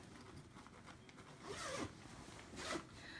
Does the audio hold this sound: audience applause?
no